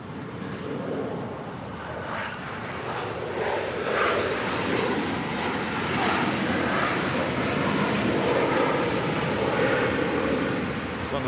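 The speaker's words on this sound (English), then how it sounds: "This is American Airlines 277 coming in from Las Vegas on a 737-800." An American Airlines Boeing 737-800 with winglets comes in to land at LAX, its steady engine roar broad and fairly loud throughout, with light wind on the microphone.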